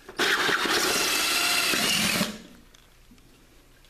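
A power drill fitted with a hole saw cuts into a plastic 5-gallon container, a loud, harsh whirring grind lasting about two seconds before it stops abruptly, leaving faint room noise.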